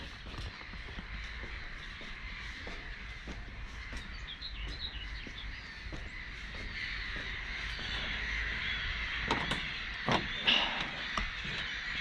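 Crows caw repeatedly at Kochanka lake in Pomerania, a steady chorus of bird calls at middle distance over a constant broadband background, with a few louder, closer calls near the end.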